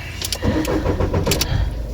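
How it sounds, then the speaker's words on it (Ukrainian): A car's engine struggling to start at the end of a season at a garden plot, cranking loudly and close with a rough, uneven churning rhythm that never settles into a steady idle. "Щось машина не хоче наша їхати."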